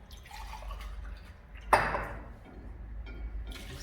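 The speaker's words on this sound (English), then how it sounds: "I'm pouring my hot water to clean." A short splash of hot water being poured, rising suddenly and trailing off into quiet drips within a couple of seconds.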